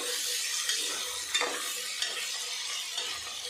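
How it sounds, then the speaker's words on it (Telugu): Vegetables with potato chunks being stirred in a hot pan for green vegetable rice, a steady soft sizzle with scraping spoon strokes, close and alone without talk. "కలిపి కాసేపు మగ్గిపోతా."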